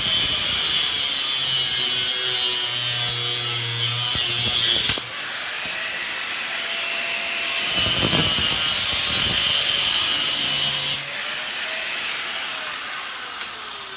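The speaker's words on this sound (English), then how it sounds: "So let's start by getting these bolts cut." Bolts being cut off a motorcycle with a power tool: a loud, steady, harsh grinding hiss runs throughout, rising and dropping in intensity in a few separate bursts, close by and without voices.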